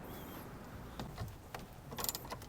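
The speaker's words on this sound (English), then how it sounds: "And then we're going to loosen it using our socket, using our wrench." Socket wrench loosening a fastener while installing an adapter in a 2013-2015 Lexus RX: faint, scattered mechanical clicks and ratcheting taps over quiet background.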